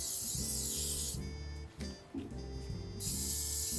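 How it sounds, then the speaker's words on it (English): Hissing bursts of an aerosol spray can onto a suede shoe, two long sprays with a short pause between, close by and fairly quiet. "Now the last thing left is to spray the shoe."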